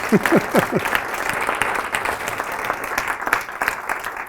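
An audience in a room applauds after a video screening at a public narrative workshop, sustained clapping that begins with a brief rising vocal whoop or cheer.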